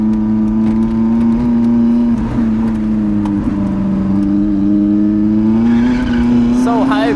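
A Lotus Elise carrying steady engine drone through a series of bends, the tone dipping and climbing slightly with each turn; a driver speaks over it briefly.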